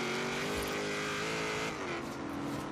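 Ford F100 street truck engine in the racing game Forza Horizon 3, a loud steady roar with layered harmonic drone that shifts pitch slightly as it drives, with no talk.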